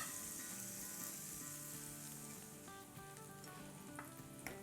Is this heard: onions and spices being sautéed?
yes